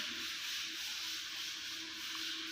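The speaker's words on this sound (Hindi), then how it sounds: "रेगमाल इस्तेमाल कर रहा हूँ वाटर प्रूफ" Steady abrasive rubbing of P120 waterproof sandpaper across a wall strip, a continuous close scratchy hiss with gentle back-and-forth swells and no pauses.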